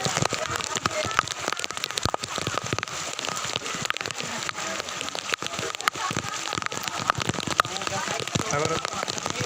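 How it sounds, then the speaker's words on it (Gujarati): Rain falls steadily during an outdoor picnic, a dense, close patter of drops hitting surfaces with sharp irregular ticks throughout. "વરસાદ આવી ગયો, આપણી પિકનિક થોડી સારી જ થઈ છે, બહુ કાંઈ બગડી નથી."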